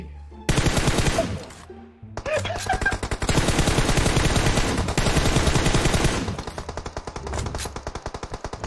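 Rapid automatic gunfire in a battle royale shooter, loud and near, long sustained bursts of rattling shots that thin into spaced single rounds near the end.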